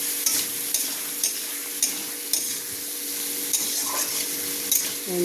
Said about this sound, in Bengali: টমেটো, কাঁচা লঙ্কা, সব কিছু দিয়ে এবার ভালো করে কষিয়ে নেব।